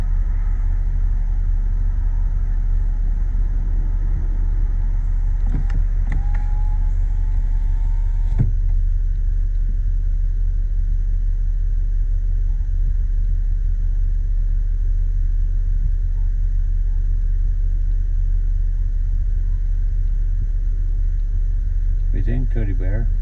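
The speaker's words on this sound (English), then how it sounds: "Repositioning the tow truck to get the wheel lift under it." A tow truck repositions at a highway incident scene on Highway 401 westbound, giving a steady, close, low engine rumble throughout, with a brief rising mechanical whine partway through.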